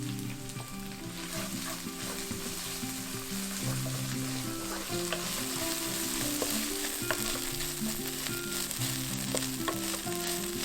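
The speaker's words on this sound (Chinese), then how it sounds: "再放入梅干菜，一起炒香。" Preserved mustard greens are stir-fried in a pan, giving a constant sizzle with repeated scraping and clinks of a spatula stirring through them, close and fairly loud.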